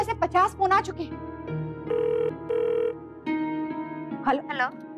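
A telephone rings in a household TV drama, sounding as several short repeated bursts of bell tone near the middle, with people talking before and after.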